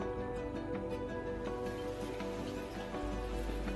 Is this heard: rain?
yes